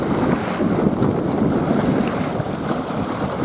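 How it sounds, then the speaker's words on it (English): Ocean waves washing around horses as they wade and swish through seawater, a steady broad rush of surf and water with heavy wind buffeting the microphone, continuous and close with no talking. "let you all listen to the waves and the horses swishing through the water."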